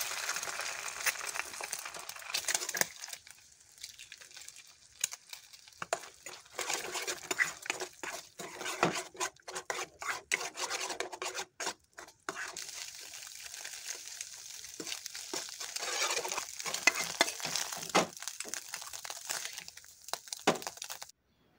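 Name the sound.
two eggs frying in oil in a pan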